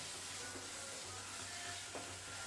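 Curry leaves sizzle in hot oil in a pan for an egg curry, alongside turmeric. A steady, fairly quiet hiss runs throughout, with a couple of faint soft knocks as the mixture is stirred. No one speaks.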